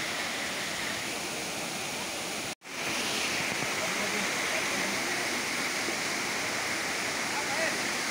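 Teesta river water rushing steadily along its bank in Sikkim, a loud, continuous broadband roar that cuts out for an instant and then resumes unchanged.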